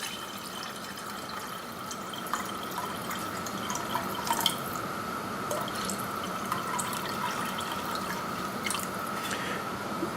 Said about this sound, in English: what I'm going to do is pour it into the pan